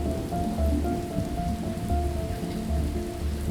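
A sudden thunderstorm over Las Vegas, heavy rain pouring in a dense, loud steady wash with low rumbling underneath and a faint tonal hum running through it.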